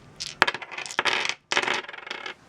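Several small dice tumble and clatter across a hard table in two quick bursts of rattling, close and crisp, with a brief pause between.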